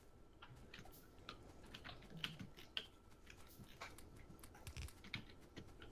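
Keys clatter steadily on a computer keyboard, picked up over a voice chat during a multiplayer Factorio session; the quick, irregular clicks sit fairly faint and close, with no talking.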